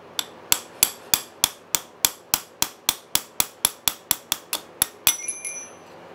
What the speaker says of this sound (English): Just use my brass punch.